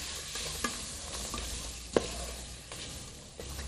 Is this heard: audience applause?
no